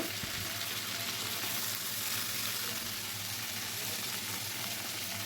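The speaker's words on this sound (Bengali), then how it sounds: "ফুলকপিটা প্রথমে একটু ভেজে নেব" Cauliflower frying in mustard oil makes a continuous, even hiss of sizzling, fairly quiet and close, with no voices.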